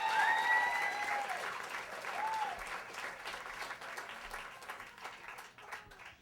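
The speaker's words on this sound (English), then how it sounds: "a swell of more applause as Bridget ONeill comes to the stage" Audience applause greets a stand-up comedian walking onto a comedy club stage, steady dense clapping that swells early and then gradually tapers off, with a few cheers mixed in.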